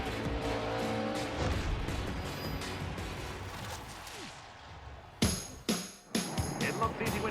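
A 2013 Ford Fusion stock car racing, with a loud sustained engine roar and tire noise, then sharp bursts of engine and skidding as it passes close by.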